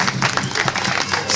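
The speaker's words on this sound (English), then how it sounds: "Give a big round of applause!" Audience applauding children at a ceremony in Menorca, a brief burst of dense, steady clapping from a crowd, fairly loud and close.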